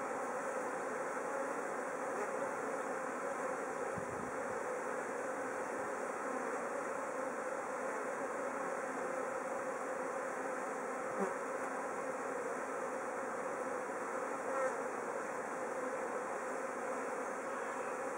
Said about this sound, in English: Come on out of the way, bees.